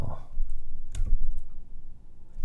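Computer keyboard keystrokes while entering form data, a few soft taps followed by a sharper click to submit, close and clear with no talk.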